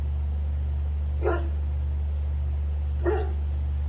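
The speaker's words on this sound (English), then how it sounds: "my dog is barking in the background" A dog barks in the background of a home recording, two single barks spaced about two seconds apart. Both sit over a steady low electrical hum and sound moderately distant.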